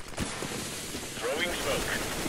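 Smoke grenade going off in the video game CS:GO on the map Cache, a steady, fairly loud hissing spray that fills the whole moment after a short initial pop.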